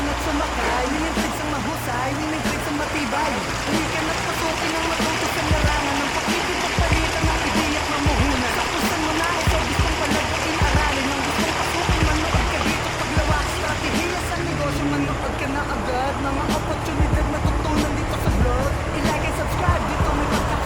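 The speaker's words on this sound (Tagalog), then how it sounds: "Lakas talaga ng tubig." Strong water rushes steadily over a small mini waterfall on a farm planting calamansi seedlings, a continuous loud broadband roar with splashing, and voices talking over it throughout.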